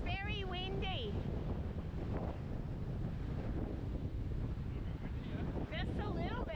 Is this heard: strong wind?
yes